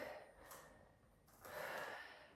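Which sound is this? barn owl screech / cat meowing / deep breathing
deep breathing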